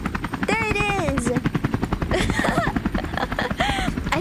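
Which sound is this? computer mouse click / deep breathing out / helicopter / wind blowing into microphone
helicopter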